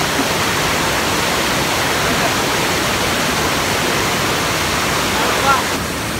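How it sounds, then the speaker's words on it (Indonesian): Rushing water at the Oimarai waterfall, a loud, steady, broadband roar heard close up that continues unbroken for the whole stretch. "Ada tulisannya air terjun Oimarai."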